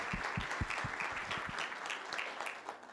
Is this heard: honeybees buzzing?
no